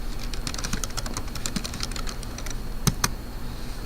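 Fingers type a password on a computer keyboard in a rapid string of close, crisp key clicks over a steady background hum, with two sharper key presses near the end.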